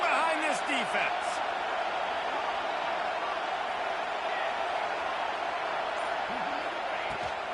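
A football stadium crowd roars steadily in support of the defense on a big third down in the red zone, a dense, sustained wall of cheering with a brief louder swell at the start.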